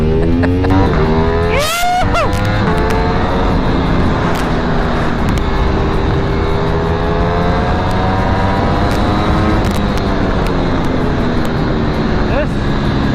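A Ducati V4 superbike engine pulls hard through rising revs with a shift-like break and repeated climbing pitch sweeps, loud and close over wind rush, with a voice speaking over it.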